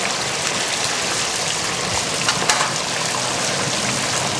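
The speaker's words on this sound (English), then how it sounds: "Drop it in. It's completely submerged in the oil." A whole Cajun turkey fully submerged in hot oil deep-fries with a dense, continuous hissing and crackling boil, loud and close, like heavy rain.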